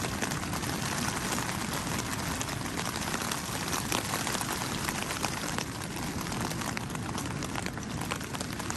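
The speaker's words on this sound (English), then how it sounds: "Might not be able to hear it over the rain, but that is some strong wind." Steady heavy rain with strong wind hisses across the whole clip, a dense continuous wash with a deeper roar underneath, loud and close, no voices.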